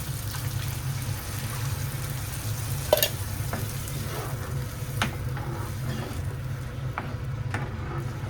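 Ground masala paste frying in a pan of cooked onions for a mutta kurma, a steady close sizzle with a few scraping stir clicks and faint liquid bubbling, no talk.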